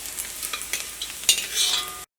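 Shallots and curry leaves fry in coconut oil with a soft crackling sizzle, punctuated by light stirring scrapes and small spitting pops, close and alone with no voices.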